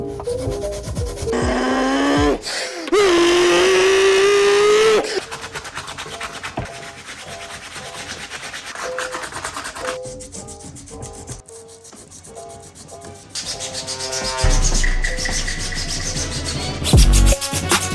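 A cheap sheet of sandpaper is rubbed by hand along a sword blade in steady back-and-forth strokes, loud and close, with the scraping changing pitch and texture as the strokes shift.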